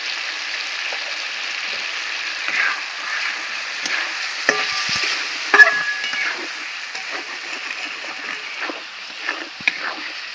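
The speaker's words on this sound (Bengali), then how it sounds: "মশলাটা ভালো করে কষিয়ে নেব।" A spice paste of ground cumin, coriander and turmeric frying in a pan, with a steady close hiss and a scatter of spattering pops and stirring clicks.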